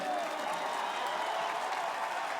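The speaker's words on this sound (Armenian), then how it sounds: "բուռն ծափերով" Dense, sustained applause from a crowd at a political gathering, a steady wash of many hands clapping at even loudness throughout with no voices standing out.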